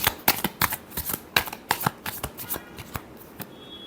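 A deck of tarot cards is shuffled by hand in a quick, irregular run of crisp riffling flaps and snaps, close and clear with no talking.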